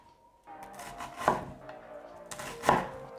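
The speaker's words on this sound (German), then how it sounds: "Ich schneide noch mal eben schnell meine Zwiebel hier zu Ende runter" A kitchen knife cuts through an onion on a board while stuffed peppers with feta are prepared, giving two sharp, close chopping knocks separated by a quiet pause.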